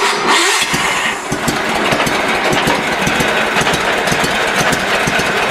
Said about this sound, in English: Listen to that slow idle, eh?